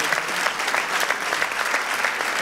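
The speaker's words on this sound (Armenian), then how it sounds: "եկեք ծափանենք" A sports talk show studio audience gives a short burst of brisk, dense applause, lively clapping that stays close and steady with no talk over it.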